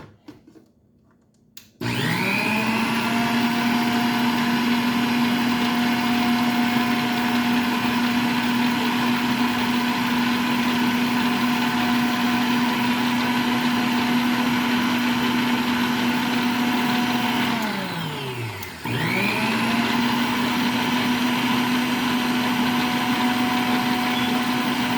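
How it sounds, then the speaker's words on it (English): Electric mixer whirring steadily through key lime pie filling in a home kitchen, switching on after a short quiet start, holding one loud even tone, then briefly slowing and dropping in pitch before spinning back up. "Let me go ahead and mix this in because I don't want all the noise in y'all ear."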